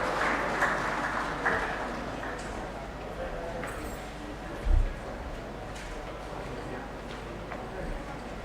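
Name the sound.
applause for dignitaries mounting the stage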